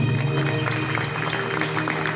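An audience claps for an honoured guest at a gathering, a busy crackle of many hands under a steady low hum, fairly loud and continuous for a couple of seconds.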